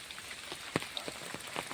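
Rain falls outdoors in the Konkan countryside, a soft, faint patter of scattered drops with no voices.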